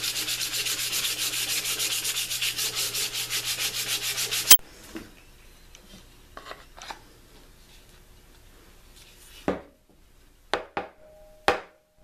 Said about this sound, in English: I'm using a coarse grit sandpaper on my belt sander to smooth out all the rough chopping nicks in the whittling process.